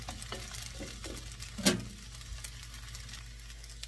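Chicken and vegetable noodles fry in a pan with a steady, low sizzle, punctuated by a brief scrape or stir in the middle; quiet and continuous, no voices.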